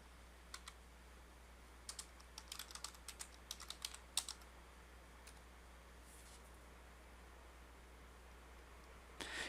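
Quick bursts of keystrokes tap on a computer keyboard while commands are entered to configure a network switch, irregular clusters of clicks against a quiet hum.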